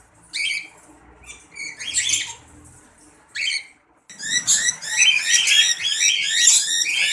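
Cockatiel breeder pairs in a home aviary give loud, harsh squawks in bursts, starting with a few scattered calls and then breaking into a dense, continuous chorus of screeches close by.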